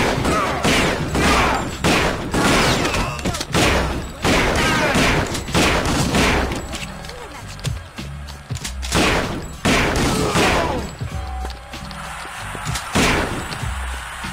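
Shotgun and other gunfire in the video game Kingpin 2, repeated heavy booming blasts in quick succession with dense overlapping shots and a brief lull before more bursts, loud throughout.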